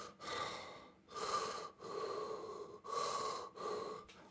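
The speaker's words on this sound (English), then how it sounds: "I am breathing." A person breathes in and out slowly and audibly, about five long airy breaths separated by brief pauses, close up with no talking.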